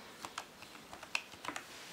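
Soft clicky keystrokes from a small Bluetooth keyboard typing a web address, about a dozen light taps in an uneven quick rhythm, close and quiet with no talking.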